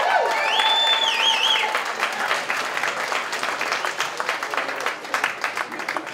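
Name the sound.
audience applause for the boxers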